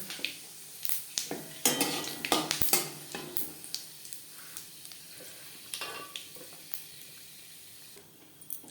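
Panch phoron spices and broken dried red chillies frying in hot refined oil, with a soft steady sizzle broken by scattered clinks and scrapes of a spoon against the pan.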